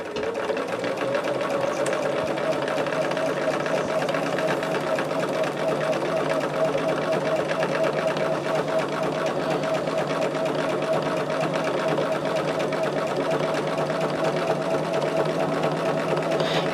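A sewing machine runs steadily for the whole stretch, stitching in the ditch through the center of a small quilted scrap gift, a continuous even hum with a fine rapid needle rhythm, close and unbroken.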